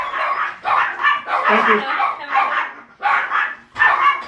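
Puppies bark and yip excitedly in a run of loud, close bursts with short gaps between them, and a brief spoken phrase is heard among them.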